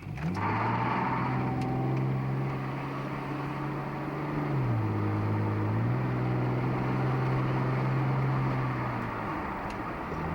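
A Nissan Maxima drives up a road with a steady engine hum from inside the car, rising and dipping in pitch as it shifts gear and changes speed, continuous and fairly loud with no talking.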